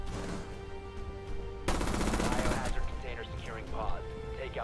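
Gunfire in the tactical shooter Rainbow Six Siege, with a dense burst of rapid automatic fire in the middle lasting about a second, surrounded by scattered shots and game noise, with voices talking beneath.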